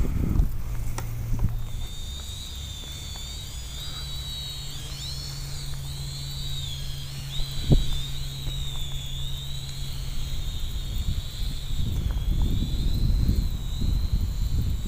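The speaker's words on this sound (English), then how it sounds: "It does seem to throttle down the power on the quadcopter, and then it'll disconnect it for 6 seconds." An Attop A10 altitude-hold quadcopter drone's motors whine in a high, wavering tone that shifts as the power throttles down, heard close and steady over a low background rumble.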